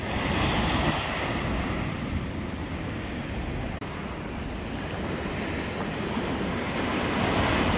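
Steady broadband roar of sea waves washing onto a beach on Lefkada, Greece, with wind buffeting the microphone; continuous and fairly loud throughout, no voices.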